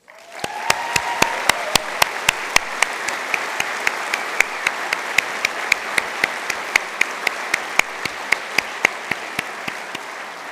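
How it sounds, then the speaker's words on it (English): A hall audience at a University of Galway autumn conferring ceremony claps in a sustained warm round of applause, with loud individual claps near the microphone standing out over the dense crowd clapping behind them. "it would be entirely appropriate to receive a warm round of applause"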